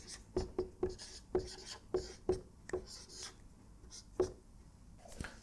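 Chalk or marker strokes on a lecture-hall board, a series of sharp, separate scrapes and taps in an irregular rhythm, fairly close, with no talking.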